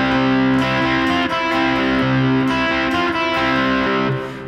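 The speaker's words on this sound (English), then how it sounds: "there's like a lot of reverb on here" An electric guitar in standard tuning without a capo plays a C suspended fourth arpeggio from Jets to Brazil's "Air Traffic Control", drenched in heavy reverb so the ringing notes blur into a sustained wash, with no talking.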